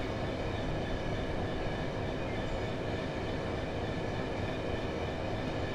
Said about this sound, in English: I've now idled the power and I'm allowing the train to coast.